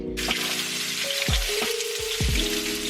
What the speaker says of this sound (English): I just added the onions and some ginger and it freaking smells delicious